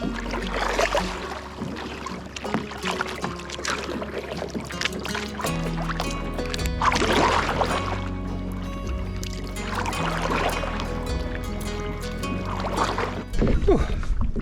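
Kayak paddling through gray-green water in the Everglades, with irregular splashing and dripping strokes close by, steady and moderately loud throughout.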